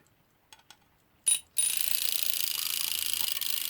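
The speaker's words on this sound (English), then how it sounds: "This alarm is very annoying." A small brass alarm clock rings nearby, its bell starting after a couple of soft clicks and a short burst, then clattering continuously and loudly to the end without pause.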